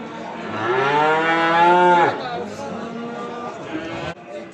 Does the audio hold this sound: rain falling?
no